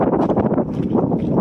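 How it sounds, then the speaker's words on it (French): Outdoors on the left bank of Rouen, gusty wind buffets the microphone with a continuous loud, rough roar and no clear speech. "J'entends rien, il y a du vent."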